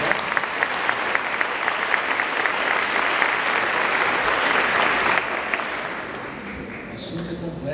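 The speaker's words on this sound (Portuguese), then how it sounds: "Parabéns, aplaudam vocês." School audience at Colégio Singular applauding a speaker, sustained dense clapping from a crowd for about five seconds, then fading out, with faint voices near the end.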